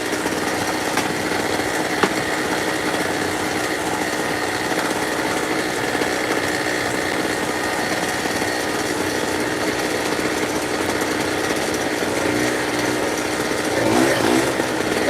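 An electric drill powered by a generator whines steadily and continuously at high pitch, loud and close, with slight changes in load toward the end.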